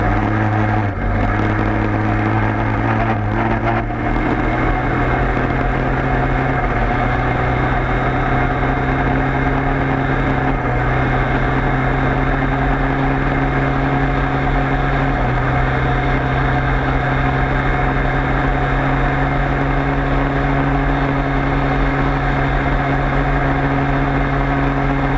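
A 103 moped engine runs steadily with a strange heavy vibration, a loud, continuous droning hum with steady tones throughout, briefly shifting pitch near the start.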